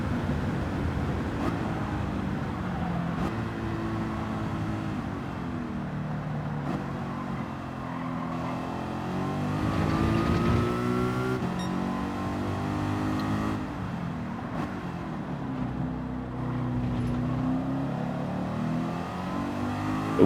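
A Mercedes McLaren SLR '09 engine drones steadily in Gran Turismo 7, rising and falling in pitch as the car accelerates and lifts through corners, loud and continuous for about twenty seconds.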